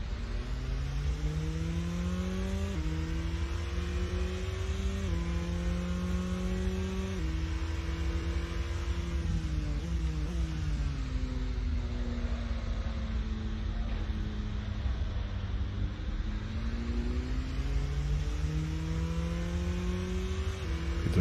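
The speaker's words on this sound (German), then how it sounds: "Sound ist da nicht gut vom Auto schon, ne?" A racing car engine in the Assetto Corsa racing game whines and revs continuously, pitch climbing and dropping with gear shifts, steady and loud throughout.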